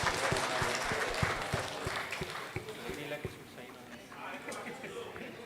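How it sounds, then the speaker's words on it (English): An audience applauds in a dense wash of clapping that slowly thins out, with talking mixed in underneath. "Please give a big round of applause."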